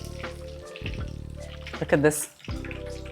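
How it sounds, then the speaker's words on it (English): Eggplant pieces deep frying in hot oil for shrimp fatteh, a steady sizzle running under brief speech with a short splashy interruption partway. "always watch your eggplants while they're deep frying"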